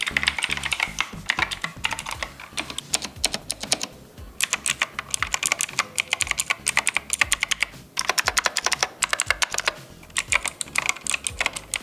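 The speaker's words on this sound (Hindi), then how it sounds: "और ये रहा इस कीबोर्ड का साउंड।" Rapid clicky typing on a Verity Unifire 96 mechanical keyboard with blue switches, crisp sharp keystrokes in fast bursts with short pauses, close and loud.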